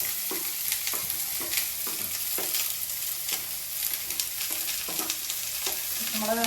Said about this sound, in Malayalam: ഇതിനകത്ത് നമുക്ക് സവാളയും പച്ചമുളകും കരിയാപ്പിലയും കൂടി ഇട്ട് കൊടുക്കാം.